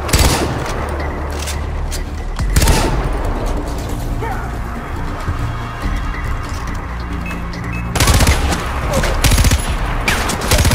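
Heavy bursts of gunfire in the video game Far Cry 4 rattle in dense volleys, loud and continuous, with sharper intense barrages at the start and end.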